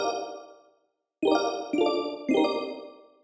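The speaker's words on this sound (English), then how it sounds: "The church reverb." Bright plucked synth chords drenched in a PlayStation 1 church reverb, one chord decaying into silence before three quick chord strikes follow, each leaving a longer, washy ringing tail.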